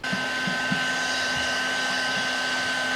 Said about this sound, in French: juste mettre un petit coup de sèche-cheveux pour que la colle, elle prenne bien